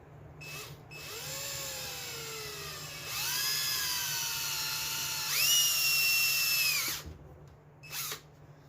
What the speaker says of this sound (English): I'm going to take a small drill bit right in that hole